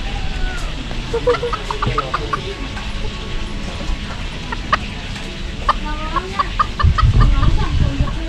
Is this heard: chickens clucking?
yes